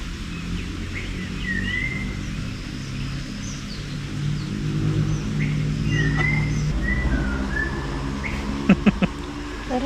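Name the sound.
bird singing in the forest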